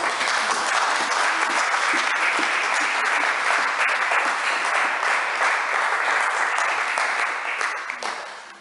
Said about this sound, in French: Nous pouvons applaudir le Seigneur pour sa parole.